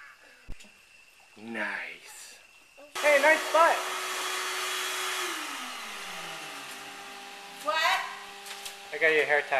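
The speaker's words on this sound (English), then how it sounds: "out here we got the speed dryer" Speed dryer switching on: a loud, steady blower-like whoosh that begins abruptly and runs continuously, with its pitch sliding down, while people talk before and over it.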